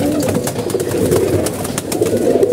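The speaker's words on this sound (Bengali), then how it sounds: "পানি, সব করে কবুতর খাচ্ছে" Pigeons coo continuously while drinking water and eating, a dense, loud chorus of overlapping throaty calls close up with light clicks and taps.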